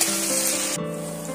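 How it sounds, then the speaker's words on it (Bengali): Potatoes frying in a pan until reddish for a rui fish curry, a close steady hiss of oil that drops off sharply partway through and carries on more softly. "আলুগুলো সুন্দর করে আমি লাল লাল করে ভাজা করে নেব"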